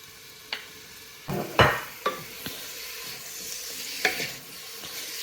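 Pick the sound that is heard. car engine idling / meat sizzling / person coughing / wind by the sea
meat sizzling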